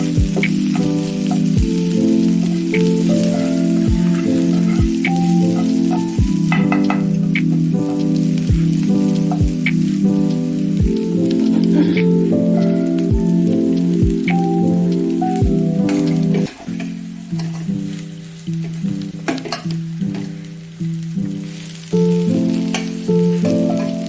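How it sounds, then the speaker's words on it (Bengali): Eggs sizzle in melted fish oil rendered from chunky fish fat for a fish-oil egg chorchori. A loud, steady frying sound runs throughout with regular sharp ticks and some tonal hum layered over it, and no one speaks. "একটু ভাজা ভাজা হলে আমি ডিমটা আগে দিয়ে দেবো।"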